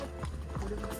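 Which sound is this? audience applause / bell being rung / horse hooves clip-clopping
horse hooves clip-clopping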